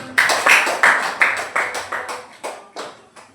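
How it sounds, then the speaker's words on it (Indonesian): Scattered hand clapping from a small classroom audience after a group presentation, about a dozen distinct claps in an uneven rhythm, close and bright, gradually tapering off. "Beri aplaus."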